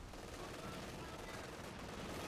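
Machine gun fire in the real-time strategy game Company of Heroes 2, a steady dense crackle of bursts running the whole time at moderate level, mixed with general battle noise.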